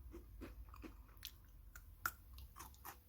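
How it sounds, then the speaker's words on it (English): A small crunchy decorated treat is bitten and chewed up close, with a few sharp crunches followed by quieter chewing at an irregular rhythm, over a low background hum. "Can you hear the crunch?"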